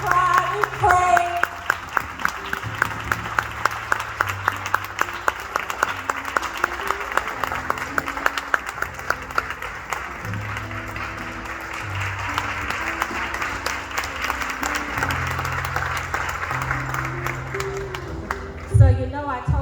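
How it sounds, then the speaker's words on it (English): Hard, rhythmic clapping from an audience at a women's healing gathering, beating in time with music and voices before loosening into a broader wash of applause. "I want you all to clap hard for my ladies."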